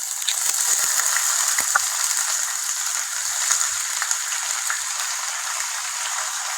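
Chopped onions hitting hot oil in a pan for a drumstick and cashew curry, giving a steady, close hiss of sizzling with scattered crackles and small pops throughout, no talking.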